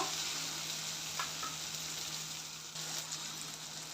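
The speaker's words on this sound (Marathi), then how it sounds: "टोमॅटो देखील सॉफ्ट होईपर्यंत एक दोन मिनटं तेलात परतून घेऊया" Chopped tomato frying in oil for an Aagri-style chicken curry gives a steady, dense sizzle that holds evenly throughout, close and moderately loud, with no voices.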